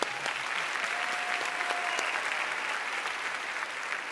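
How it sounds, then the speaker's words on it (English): Graduation audience applauding at a spring commencement ceremony, a steady dense wash of many hands clapping that holds evenly at full strength throughout, with no voices over it. "Let's give her another round of applause."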